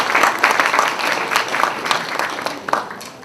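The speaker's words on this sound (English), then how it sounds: "Okay, let's applause." An audience applauds at a spring KAIST event, with a brisk, slightly uneven burst of clapping that peaks early and gradually thins out.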